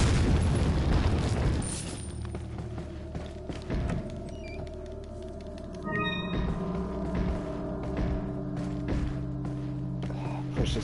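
A tripwire trap goes off with a loud, deep boom at the start in Resident Evil 4, then a rumbling tail under quieter in-game ambience and thuds.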